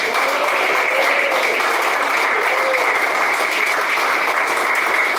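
A large crowd claps steadily throughout, a dense, even wash of applause without pause.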